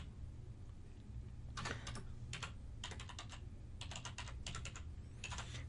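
Bursts of typing on a computer keyboard, clicking out a short heading in quick clusters of keystrokes with brief pauses between, over a steady low hum.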